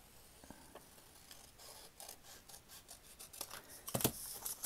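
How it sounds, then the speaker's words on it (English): Scissors cut paper along a drawn line for a creative journal page: faint, close snipping and rasping strokes come in short irregular bursts, growing slightly louder toward the end, in an otherwise quiet room. "I'm going to cut on that line."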